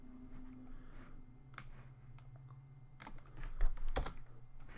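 Fingers type code on a computer keyboard in quick, uneven bursts of soft clicks, with a few sharper key taps and a louder clatter toward the end, fairly close and quiet.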